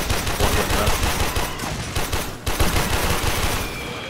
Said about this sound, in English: Somebody's shooting from behind.